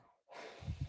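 A single breath is released after a deep breath hold: a short, close exhale that starts after a brief silence and ends in two soft puffs of air.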